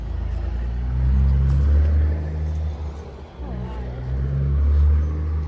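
A red Peterbilt truck with a new Detroit engine rumbles as it pulls away, its deep low engine note rising and falling steadily before fading slightly.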